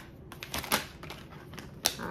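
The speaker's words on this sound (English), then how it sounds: "So I think this should be our last shuffle." Tarot cards are shuffled by hand, giving a few close, crisp riffling and snapping bursts of card stock with a sharp slap near the end.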